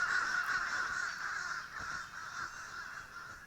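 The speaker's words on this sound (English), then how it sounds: "there's crows." Crows caw repeatedly in the video game Vigor, a steady run of harsh calls at moderate distance with no talking.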